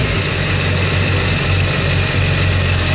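Twin engines of a 2015 Yamaha 242 Limited S boat idling with the engine hatch open, a close, steady low rumble with constant hum throughout and no talking.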